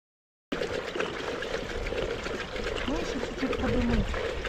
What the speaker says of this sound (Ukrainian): заливаємо бензинчик